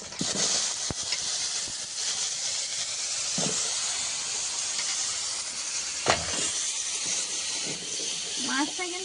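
Fried onions sizzling in a pan, a constant hissing fry in the background under a person talking, with a few sharp clinks.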